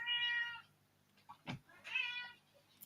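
A house cat meows twice, loud and close, with a short thump between the calls, in a room during a football watch-along.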